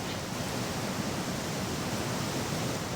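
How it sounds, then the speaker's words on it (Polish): A waterfall in the Gothic 2 game roars with rushing water, a steady broadband hiss that holds unchanged throughout, alone with no talk. "Fajnie, że tutaj tak kurwa napierdala woda na tym wodospadzie"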